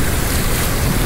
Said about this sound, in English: it's really windy and you can see the choppiness of the water there